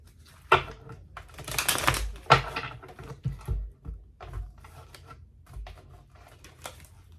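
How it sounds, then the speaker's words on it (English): Rapid papery riffling of cards, a couple of louder bursts followed by softer clicks and flutters, close by with no talking. "One more shuffle."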